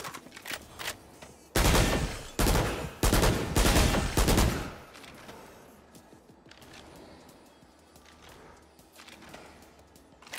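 Bulldog assault rifle firing in Valorant: several loud, dense bursts of gunfire in the first half, each burst lasting a fraction of a second to a second, then quieter weapon handling and faint game ambience.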